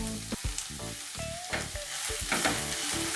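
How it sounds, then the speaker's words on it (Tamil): Onions frying with salt in a pan for a puri peas masala, a steady sizzle broken by loud scraping stirs and clatters of a spoon against the pan, close and with no one talking. "வெங்காயம் நல்லா வதங்கட்டும்."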